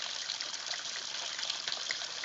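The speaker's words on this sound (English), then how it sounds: "this is waterfall number 1" Unbroken splashing roar of a small Ozark waterfall spilling about 12 feet from a rock shelf, dense and steady at close range, alone without speech.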